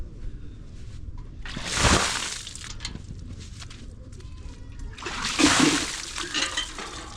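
A bucket of cold water dumped over a person's head after a wild sauna at West Sands beach, St Andrews, Scotland: two loud splashing gushes a few seconds apart over faint outdoor background.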